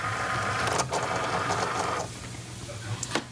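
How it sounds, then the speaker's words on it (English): Cricut cutting machine feeding a cutting mat through on the iron-on setting, a close mechanical motor whir that runs for about two seconds and then drops to a lower hum, with faint clicks. "So I'm just going to feed my Cricut mat through the Cricut."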